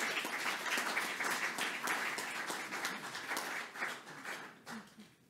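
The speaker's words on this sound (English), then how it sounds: "A round of applause for her." Applause from a lecture audience greets a guest speaker at a memorial lecture, a dense burst of many hands that gradually thins and tapers off toward the end.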